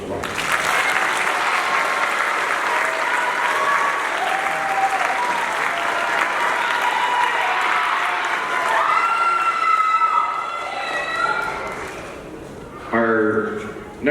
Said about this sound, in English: Give these kids one more round of applause.